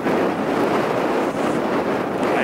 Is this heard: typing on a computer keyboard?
no